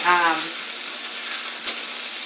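Shrimp fried rice with butter fries in a pan with a steady close sizzle and a brief stir clink partway through, with a voice speaking at the very start.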